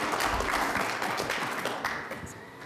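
An audience applauds a sheriff's office SWAT robot at a public safety event, a steady wash of clapping that holds fairly loud before thinning out toward the end.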